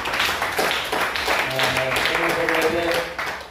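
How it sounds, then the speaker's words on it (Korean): Churchgoers at a Korean theological seminary class clap together in a dense, steady burst of applause lasting a few seconds, with faint tonal sounds running underneath. "우선 하나님께 영광의 박수 드리겠습니다"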